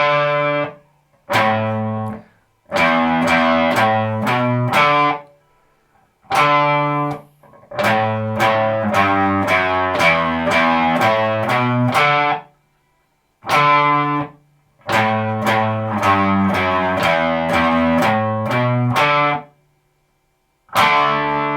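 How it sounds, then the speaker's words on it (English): An electric guitar plays a single-note melody through distortion and effects, with bursts of quick plucked notes separated by short pauses, loud and close with no talking. "I'm gonna bypass the power chords and play that full melody."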